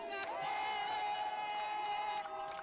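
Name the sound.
crowd of people cheering and shouting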